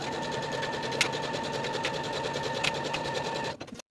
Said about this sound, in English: And then sew your underarm seams with a 3/8 inch seam allowance.